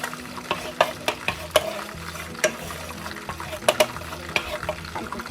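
Annatto powder stirred into hot frying oil in a pan, with repeated scraping and clinking strokes of a utensil over a soft sizzle, close and rhythmic, with no talking.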